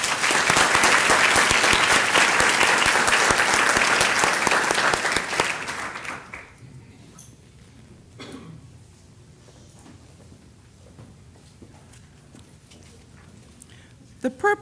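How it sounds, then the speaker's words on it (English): Applause for undergraduate nursing students at a university white coat ceremony, a dense, loud burst of clapping from the audience that fades out after about six seconds into quiet room tone with a few scattered claps. "Please give the undergraduate students a round of applause."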